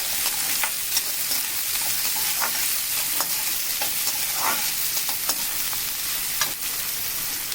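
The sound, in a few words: chopped vegetables stir-frying on high heat for fried rice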